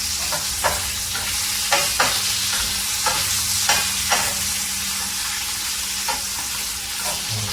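Bacon and potatoes fry steadily in a pan with a continuous crackling sizzle, broken by several sharp scraping clicks as pieces are turned and stirred; no one speaks.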